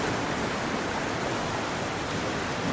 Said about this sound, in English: Bit of water from this creek